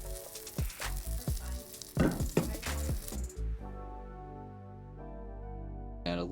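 Cape hake fillets fry in a pan of browning butter and oil, sizzling loudly with bursts of stirring and scraping, then giving way to a steady tonal passage before a brief return of crackle.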